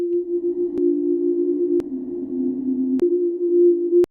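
A steady, smooth synth tone hums with a long reverberant tail, its pitch drifting slightly, punctuated by a few faint clicks.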